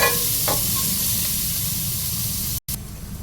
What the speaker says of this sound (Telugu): నేనైతే ఓన్లీ క్యారెటే వేస్తున్నాను ఇది కూడా ఫస్ట్ ఫ్రై చేస్తున్నాను